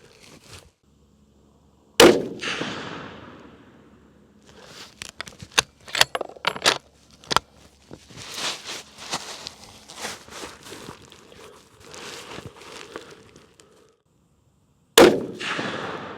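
A Christensen Arms Mesa .300 PRC rifle fires Hornady Precision Hunter ammunition, two sharp loud shots about thirteen seconds apart, with clattering, handling and footsteps of working the action in between.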